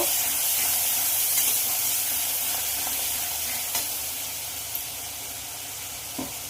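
Tomato and turmeric masala for chitol fish, stirred in a pan with a steady sizzle and hiss and a few soft scrapes of the spoon, no voices.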